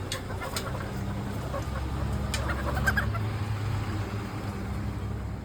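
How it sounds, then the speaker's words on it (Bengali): Native village chickens clucking in a flock, scattered short calls over a constant low outdoor rumble and background hum, moderately distant. "এই যে দেশি মুরগি"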